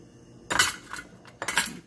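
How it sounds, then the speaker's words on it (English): A spoon stirs a pot of gluten-free Zuppa Toscana soup, giving two short bursts of clinking and scraping against the pot, close and fairly quiet, with a lull between them. "I'll just give that a little stir."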